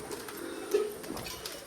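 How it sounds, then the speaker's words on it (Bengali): Pigeons kept in a rooftop loft, some with wings pinned so they cannot fly, give a low soft coo that swells briefly in the middle amid faint background noise, with no talking. "আর এইখানে কিন্তু আরও কিছু পায়রা আছে বসা।"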